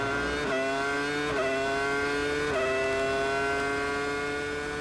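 Simulated Ferrari Formula 1 car from the F1 2001 video game approaching the line, a steady high-pitched engine whine with rising pitch sweeps at each gear shift, continuous and loud with no talk.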